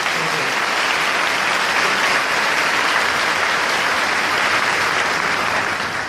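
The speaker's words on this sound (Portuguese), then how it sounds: "Pode aplaudir." Worshippers at a Catholic sermon break into sustained applause, a thick even wash of many hands clapping that holds steady for several seconds with no voice on top.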